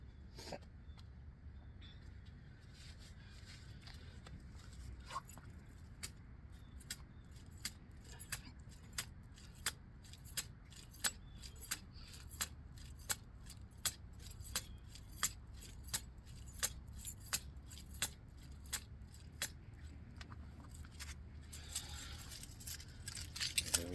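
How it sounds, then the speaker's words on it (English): Keys jangle and click in a steady rhythm, roughly once a second, muffled as if moving inside a pocket, fairly quiet throughout. "Keys in my pocket, clicking all crazy. That's that noise y'all hear."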